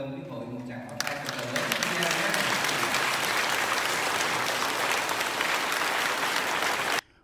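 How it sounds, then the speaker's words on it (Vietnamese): A church congregation applauds at a Catholic mothers' association feast day honoring Saint Monica. Speech and tones are heard in the first second, then loud, dense clapping swells and holds steady before cutting off abruptly. "Mừng và cảm ơn quý hội một tràng pháo tay."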